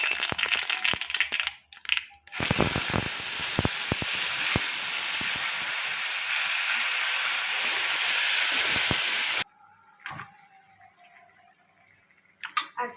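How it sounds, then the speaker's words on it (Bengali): Panch phoron spices sizzle and hiss loudly in hot oil for a tomato chutney, a dense steady crackle that runs for several seconds before cutting off abruptly, followed by quieter kitchen clatter. "এই যে পাঁচফোড়ন দিয়ে দিচ্ছি। এখন আমি চাটনি রান্না করবো টমাটারের।"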